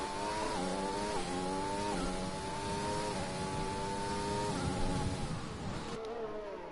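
A Mercedes race car in the Formula 7 racing game screams down a straight, its high engine whine rising through the gears in steady upshifts, loud and continuous.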